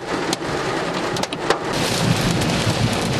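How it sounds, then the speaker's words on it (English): Hail and heavy rain pelting down during a stormy road trip, a dense, continuous roar of impacts with occasional sharper knocks, loud and close with no talking. "the hail's getting louder"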